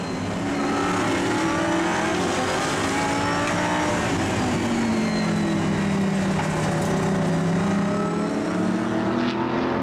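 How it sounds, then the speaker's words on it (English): A Corvette GT race car accelerates hard at Assen during a Dutch Supercars event, its engine a loud, sustained roar with rising and falling pitch as it pulls out of a corner. "Corvette accelerating out."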